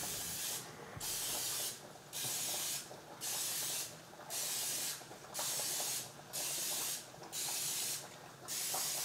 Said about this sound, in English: I just want to make sure to spray the edges of these really well and the bottom so nothing sticks